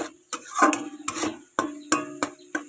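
Grated carrot being fried dry in a pan for Bengali carrot laddu, with repeated scraping stir strokes and clinks of a spatula against metal over a soft sizzle, close and irregular.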